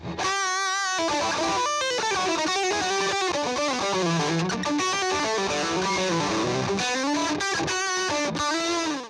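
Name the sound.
Glarry electric guitar through amp with gain turned up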